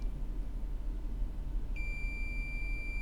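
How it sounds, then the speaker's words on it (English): A multimeter in continuity mode gives a single steady electronic beep as its probes touch during an iPhone 6 charging repair, starting partway through and holding clear and loud over a low background hum. "We're going to touch the two probes together"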